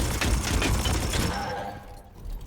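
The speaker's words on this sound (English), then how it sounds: "I can only see you, so that's who I'm going to shoot" Gunfire in the turn-based Warhammer 40,000: Chaos Gate - Daemonhunters video game: a quick rattling burst of close shots that fades into a quieter rumbling tail, with no talking.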